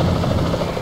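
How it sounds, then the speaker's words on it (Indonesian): Helicopter in the video game GTA San Andreas (Indonesia mod), a steady droning rotor and engine hum that holds constant and fairly loud through a brief moment, with no talk. "Dan itu helikopter yang masih ada."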